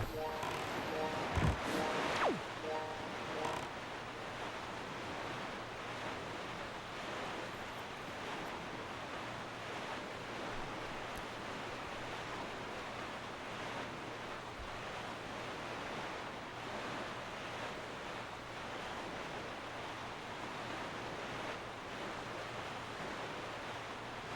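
Steady ocean waves and rushing wind while sailing a boat in The Wind Waker, a continuous wash of surf noise with a brief sharper splash near the start.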